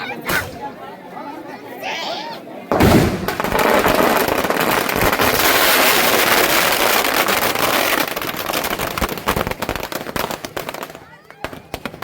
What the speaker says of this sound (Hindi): आपका आतिशबाजी देखिए